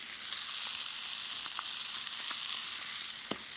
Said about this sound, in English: we're developing a nice crust on the bottom of the pan as well